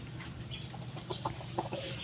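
White and gray breeding chickens, including a white rooster, cluck softly and intermittently in a coop, with a low steady hum underneath and no voices.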